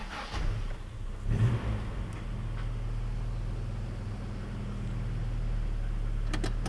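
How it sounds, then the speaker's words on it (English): A Toyota Hilux engine idles and rumbles steadily as the pickup reverses out, a low continuous drone with a few brief clunks near the start and some light rattles toward the end. "Now I should be able to reverse out."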